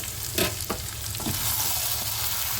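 Ghee sizzles and crackles in a hot pan for a Bengali cabbage dish with fish head, potatoes, peas and garam masala, a steady loud frying hiss with a few stirring scrapes and no talk.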